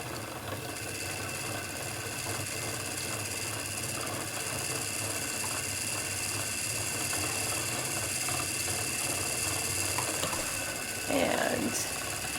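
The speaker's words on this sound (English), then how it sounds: "don't mind the wheel moving. I'm just pushing it with my feet to get a distance from my body that works best for me" Wooden spinning wheel shifted across the floor by foot pressure while spinning a Shetland braid, a steady mechanical whir and faint ratcheting with a brief scuff near the end, no talking.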